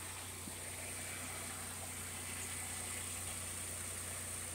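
A 2006 Pontiac Grand Prix with a 3800 V6 engine idles smoothly and steadily, a constant low hum with a faint high whine, heard close and alone with no talking.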